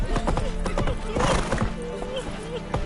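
Geralt's horse Roach in The Witcher 3 with rhythmic clip-clop hoofbeats and a neigh, close and lively, under overlapping game voices.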